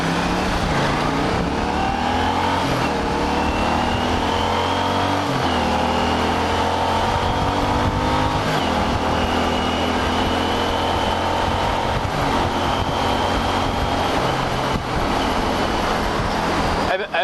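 A 1983 Honda GL650 Silverwing Interstate motorcycle accelerating through its gears, engine tone rising and dropping at each shift, loud and close with steady road and wind noise throughout.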